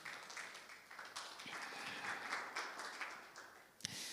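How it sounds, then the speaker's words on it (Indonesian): Congregation at an Indonesian church worship service claps, a faint, distant wash of applause swelling and fading over several seconds, with a sharp knock near the end. "Kita berikan tepuk tangan buat Tuhan Yesus."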